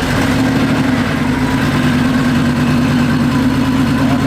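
The air-cooled engine of a Porsche 911 964 RS America, fitted with a quieter exhaust, idles loud and steady close by with an even, throbbing low hum and no talk over it.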